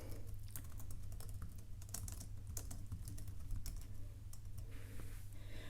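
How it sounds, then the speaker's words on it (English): Someone typing on a computer keyboard, a close run of quick irregular key clicks with short pauses between bursts, alone against quiet room tone. "I can then type anything I want here"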